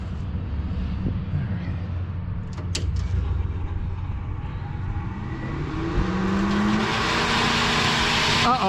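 Road traffic passes nearby, a car's engine noise swelling steadily into a loud broadband rush toward the end, with a low hum underneath throughout.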